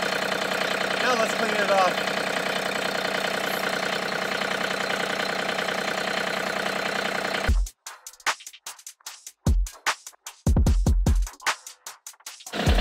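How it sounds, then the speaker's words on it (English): A John Deere 3320 compact tractor idles steadily after a cold start following a month unused, a constant close engine drone before louder intermittent knocks and scraping, with a person speaking briefly. "John Deere 3320 cold started right up, hadn't been going in a month."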